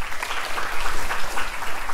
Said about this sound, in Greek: θέλω και το θερμό σας το χειροκρότημα, Αθανάσιος Κόρτας, Θεοδόσης Στυλιανού,